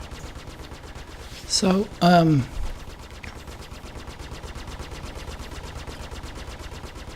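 Spaceship gimbaled guns firing in Star Citizen, a rapid, even stream of shots running through the whole stretch under a brief spoken voice.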